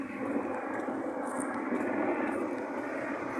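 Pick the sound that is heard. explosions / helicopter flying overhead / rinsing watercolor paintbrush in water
helicopter flying overhead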